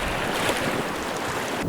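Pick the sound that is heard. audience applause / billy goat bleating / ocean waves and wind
ocean waves and wind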